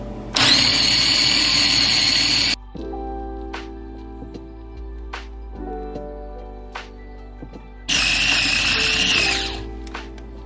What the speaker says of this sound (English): So we're going to start with the chop function, and it's going to be noisy.